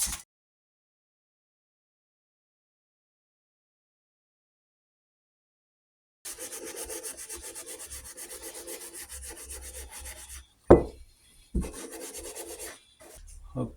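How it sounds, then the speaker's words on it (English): Norton Commando conrods are rubbed by hand with 400 grit paper, close and quiet: a long stretch of silence, then steady rasping strokes with a brief pause near the end. "I've just rubbed them down, polished them up with a bit of Scotch Brite pad, got rid of all the nicks and scratches as far as possible."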